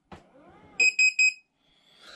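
Three quick, high electronic beeps from a Tresani standing desk control box sound in a row, close and clear, following a brief rustle and the soft whirring hum of the desk moving.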